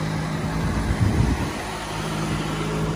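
A 2-litre Austin Princess car engine runs steadily after being pulled from a barn, a low continuous hum with a brief bump in level about a second in, alone and without talk.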